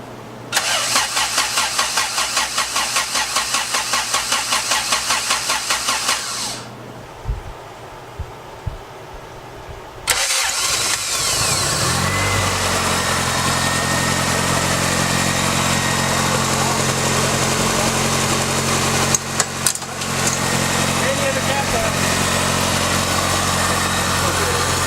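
A Honda B20v engine sputters and cranks, falls quiet briefly, then catches on its first start and settles into a steady, fairly quiet idle. People talk faintly nearby.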